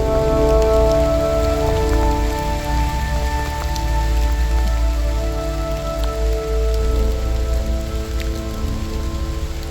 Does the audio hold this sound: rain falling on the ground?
yes